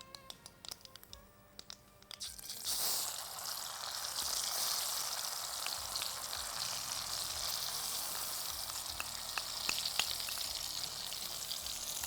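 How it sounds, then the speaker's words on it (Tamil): Mustard seeds spluttering and crackling in hot oil over a low flame, a dense continuous sizzle with scattered sharp pops that starts abruptly after a quieter opening and stays steady and close throughout. "கடுகு போட்டுடலாம். கடுகு நல்லா பொரிஞ்சிடணும்."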